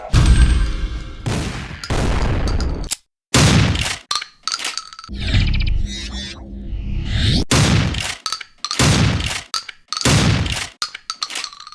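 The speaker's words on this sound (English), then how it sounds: "the Boomstick is satisfying to fire" The Boomstick shotgun in a retro FPS fires repeatedly, each blast a sharp, loud crack followed by brief clanks and reload sounds, the shots spaced about a second apart in a steady rhythm.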